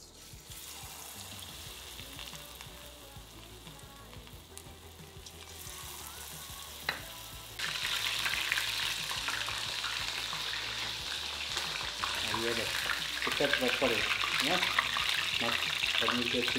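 Batter-coated paneer cubes sizzle and fry in a pan, a steady crackling hiss that grows louder partway through, with occasional clatter of stirring and a brief tap-water sound.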